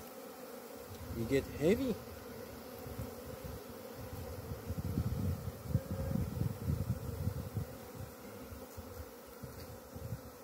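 Honey bees swarming around a nuc box baited with lemongrass oil outdoors, a close, wavering buzz of many insects with rising and falling intensity, and a voice briefly speaking early on.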